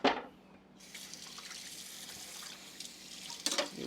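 Running water from a kitchen tap while a knife is rinsed under it, a steady soft stream with small splashes and a louder burst near the end, fairly close and without talk.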